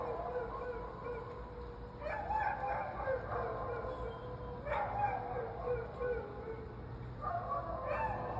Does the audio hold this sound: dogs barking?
yes